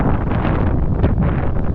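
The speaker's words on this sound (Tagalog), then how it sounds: "pagpasensyahan na rin po at mahangin" Strong gusty wind buffeting the microphone at a dam, a loud continuous low roar with rustling turbulence and no voices.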